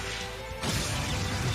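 Shatter attack from the Trails of Cold Steel video game: a sudden loud smashing crash bursts in after a quiet musical stretch and rings on densely to the end.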